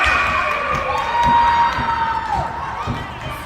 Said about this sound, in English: All right, Minnetonka, let's stop cheering,